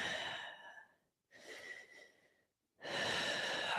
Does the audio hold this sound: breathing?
yes